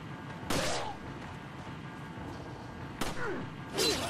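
Gunfire in the video game Resident Evil 4, two separate sharp shots roughly two and a half seconds apart over a low game ambience, moderately loud.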